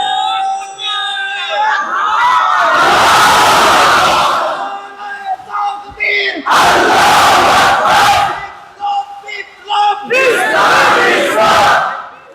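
A large crowd at an Islamic sermon (waz) in Kushtia roars a takbir chant in three loud surging bursts, each answering a single leading shout, with brief pauses between.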